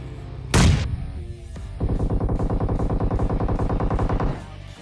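Rapid automatic gunfire in an online shooter video game, a loud burst followed by a long steady string of evenly spaced shots that stops abruptly.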